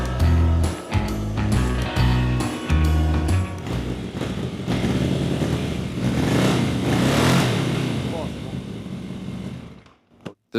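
A struggling Yamaha FZX750 motorcycle engine revs and strains at close range, rising and falling unevenly before cutting out near the end.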